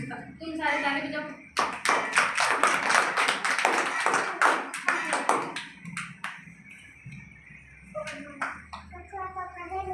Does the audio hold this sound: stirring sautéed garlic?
no